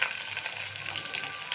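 Chopped onion frying in hot oil for chicken pulao gives a steady, close, even sizzle for the whole short stretch, with no voices.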